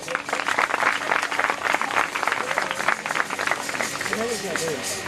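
Spectators at a sports festival prize distribution clap for a medal winner, a moderate wash of applause with a voice speaking over it near the end.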